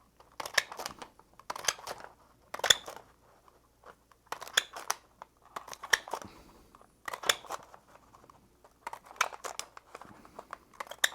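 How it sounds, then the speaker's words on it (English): A craft punch snaps through stiff paper in a steady series of sharp crunching clicks, about one every second or so, close and distinct with quiet gaps between. "paper punching, which makes a huge mess here"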